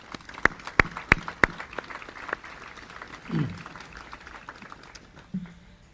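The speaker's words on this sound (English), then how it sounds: "So please, round of applause for the team." Applause for a team at a ceremony honoring two American heroes, opening with several sharp, distinct claps that thin into scattered lighter clapping, with a brief low rumble near the end.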